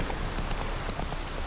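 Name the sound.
rain in The Witcher 3: Wild Hunt video game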